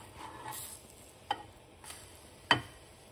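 Fluffy pancakes fry quietly in a pan, a faint low sizzle with a few soft clicks and taps, no voices.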